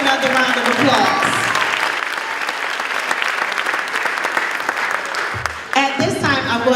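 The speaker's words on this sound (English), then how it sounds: "Let's give them another round of applause." An audience at an eighth grade graduation gives a round of applause, steady clapping with a voice speaking at the start and again near the end, with a short lull just before the voice returns.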